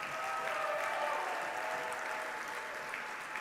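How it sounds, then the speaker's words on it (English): Quiet, distant-sounding round of audience applause at an event day, honoring the Gene Haas Foundation sponsor, with an even patter of many hands. "let's have a big round of applause to our Gene Haas Foundation"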